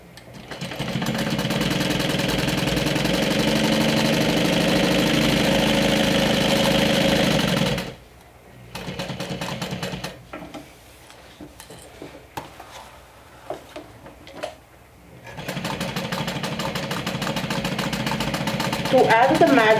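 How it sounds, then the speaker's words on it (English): A sewing machine stitches around the flap of a makeup bag with a 1/8 inch seam allowance, running in a loud, steady whir for several seconds, then pausing with handling clatter before starting up again. "go ahead and sew around it with 1/8 of an inch seam allowance"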